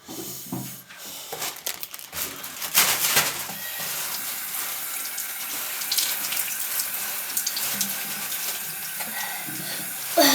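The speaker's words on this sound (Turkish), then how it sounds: "Son bir kere yüzünü yıkanalım ben." Tap water running into a sink while someone washes their face after removing makeup, a steady close splashing flow with intermittent splashes and rustling throughout, with no speech.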